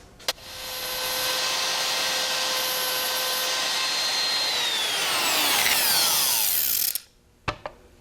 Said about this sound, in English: I'm going to take that same burr bit and bore down through it to the floor